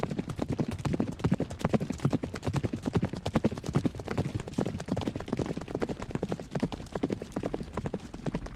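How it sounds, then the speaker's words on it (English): Chariots drawn by charging horses make a sound effect of fast, continuous hoofbeats. The steady galloping rhythm stays close and prominent throughout, with no talk over it. "their wings made the noise of chariots drawn by many charging horses"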